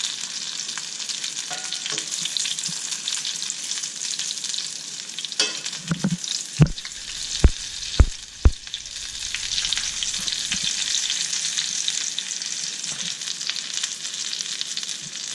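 Chicken katsu sizzles steadily in oil in a pan, a constant loud crackle broken midway by a few sharp knocks and clatters of a utensil as the pieces are turned.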